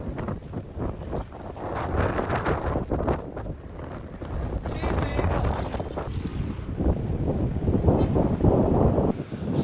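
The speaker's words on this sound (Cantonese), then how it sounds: "好大浪，好大風，好似8號風球咁。" Strong wind buffets the microphone over big waves crashing at a beach in Nha Trang on an overcast day, a loud, continuous roar of surf and gusts with no talk.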